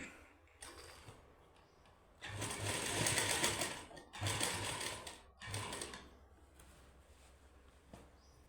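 Sewing machine stitching lace onto the side slits of a suit, running in three loud bursts of rapid mechanical whirring separated by brief pauses, close by with no talk.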